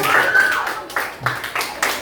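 Classroom applause for a group of presenters: a few scattered claps and short bursts from a small group, close, with voices murmuring between the claps.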